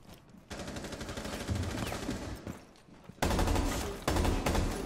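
Rapid, sustained machine gun bursts in a video game, loud and close, starting after a brief lull, easing off near the middle and then cutting back in harder for a final stretch of continuous fire.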